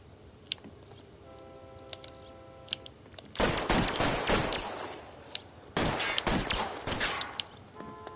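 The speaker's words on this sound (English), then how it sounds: "I'll lay down some suppression fire." Suppressive gunfire in a PS4 video game comes as two dense, loud bursts of rapid overlapping shots, each lasting about two seconds, with a short gap between them and quieter game ambience before.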